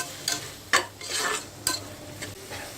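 Turmeric and salt being stirred into vegetable daliya in a pan: several separate scraping strokes of a spoon against metal, close and moderately loud, with a soft background hiss between them and no talking.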